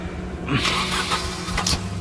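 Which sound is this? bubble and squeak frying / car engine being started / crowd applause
car engine being started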